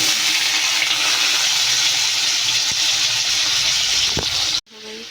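Potatoes added to hot oil with cumin seeds that have been browned until golden red, giving a loud, steady broadband sizzle that fills the clip before cutting off sharply near the end.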